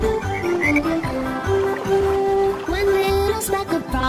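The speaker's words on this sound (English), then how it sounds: "Then there was one green speckled frog" A green speckled frog croaks in a children's song, with repeated rhythmic croaks heard clearly over a musical backing.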